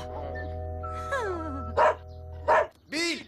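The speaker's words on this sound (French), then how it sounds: "Attaquer un pauvre chat sans aucune raison. Il est enragé, votre chien." In a French animated series, a cartoon dog aggressively barks at a cat. After a humming, whiny tonal stretch, three loud, clipped barks ring out close by, spaced roughly half a second apart.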